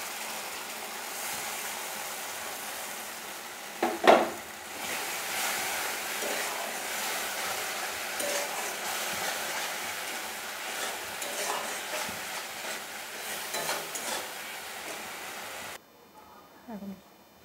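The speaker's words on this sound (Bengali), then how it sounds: "আমার মশলাটা কষানো হয়ে গেছে।" Masala paste with poppy seed and cashew sautéing in a pan for a Bengali katla fish kalia, giving a steady broad sizzle with scraping stirs and one sharp clank near the start, then a sudden drop to near quiet at the end.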